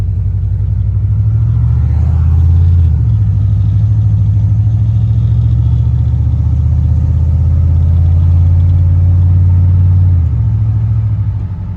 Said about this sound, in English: Let's drive this girl and see how she does.